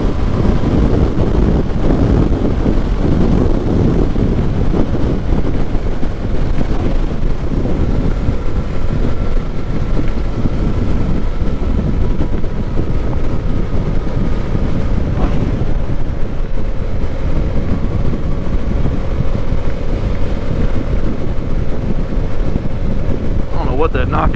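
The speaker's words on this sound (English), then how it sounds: "It's so windy" Strong wind buffeting the microphone with constant rumbling roar, steady and close throughout, with a faint hum in the background.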